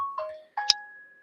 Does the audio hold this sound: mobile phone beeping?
yes